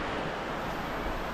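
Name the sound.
rain falling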